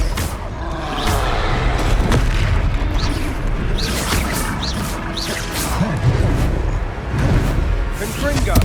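Spell hits burst and crash in Hogwarts Legacy, a dense, loud run of booming impacts and cracks over continuous game noise, with a voice heard faintly under the clatter.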